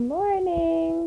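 A single drawn-out cat meow rises and then holds, close by, with a brief spoken word overlapping near the end.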